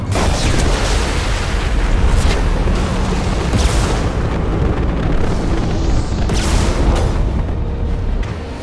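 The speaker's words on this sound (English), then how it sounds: "Impending explosion." A series of explosions in Mass Effect 2 booms loudly and continuously, with heavy low rumbling and several sharper blasts bursting out over a dense roar of debris and fire.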